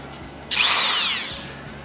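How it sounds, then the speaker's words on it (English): A Dremel rotary tool fitted with a plastic cutting wheel whines up sharply at high speed for about a second, then slowly winds down, loud and close with no talking. "Dremel, plastic cutting wheel"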